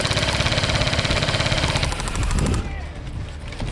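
Tokyo Marui P90 airsoft gun firing full auto during a game at an outdoor airsoft field, a rapid, loud, even stream of shots for about two seconds before it stops, leaving background noise.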